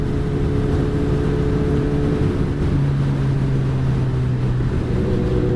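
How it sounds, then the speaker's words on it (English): Stretched and lowered Kawasaki ZX-14R motorcycle with a full Brox exhaust, a loud, steady low engine drone running close and continuous, the pitch shifting slightly midway as if the revs change. "It's got the full Brox exhaust, which sounds damn good."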